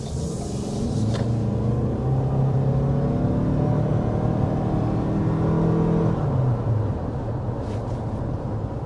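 A Toyota RAV4 hybrid accelerates uphill to around 60 mph, the engine's steady drone and tyre rumble rising in pitch from inside the cabin, then easing slightly near the end.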